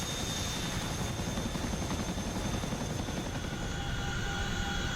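A CH-47 Chinook helicopter in the DCS flight simulator gives a steady, loud rotor and engine drone with a dense, even wash and faint high whine, continuous throughout with no talk.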